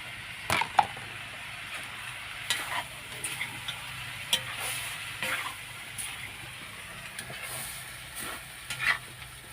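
Chowmein with coriander sizzles steadily in a pan, broken by repeated light clacks and scrapes from stirring, close and fairly quiet, with nobody talking.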